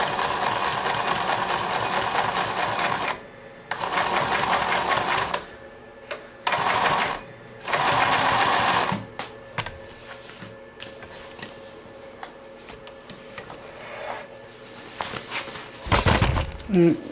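Singer 20U33 industrial sewing machine running in loud bursts of stitching, first in reverse and then zigzag, with brief pauses between runs and faint mechanical clicks.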